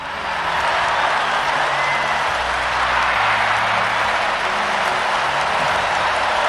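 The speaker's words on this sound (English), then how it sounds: "let's give a round of applause for NieR" A crowd applauding a round of clapping for the game NieR, a dense steady wash of hands that builds up quickly and holds loud and even for several seconds.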